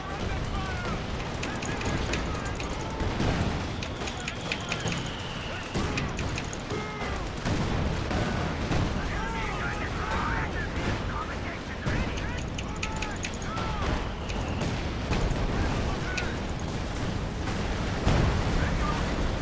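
A sustained artillery barrage mixed with rattling gunfire in Company of Heroes 2, dense and continuous with repeated blasts, while a voice talks over the combat.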